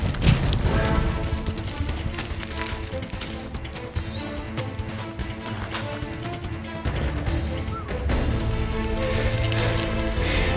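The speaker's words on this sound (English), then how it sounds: "Lightning and the hail is starting." Hail pattering densely on gear and ground during a mountain storm, a loud, continuous clattering mix of sharp impacts that swells and eases over several seconds, with occasional louder knocks close to the microphone.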